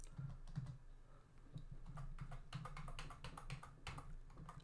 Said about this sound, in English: then I'm pressing tab on my keyboard until I get it into the top right in the same line as my title